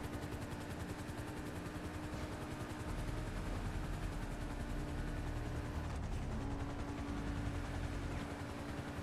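A helicopter in GTA Online goes down after a mayday call, its rotor and engine making a loud, steady mechanical whirring and clattering that continues for the whole stretch with no voices.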